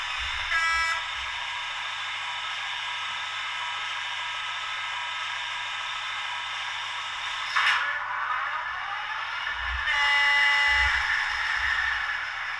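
A model Class 56 diesel locomotive engine drones steadily with a loud, buzzing hum and rumble, swelling briefly near the end.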